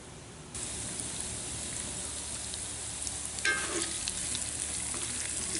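Smoked pork with soft onions and peppers sizzling in a 14-inch Lodge cast iron pan for seafood paella, a loud, steady, close frying hiss with a brief stirring scrape midway.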